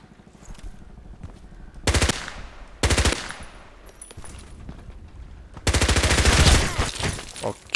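MP5k submachine gun firing in the Contract Wars shooter game, loud full-auto bursts in three separate volleys, the last one longer, with quieter in-game ambience between them.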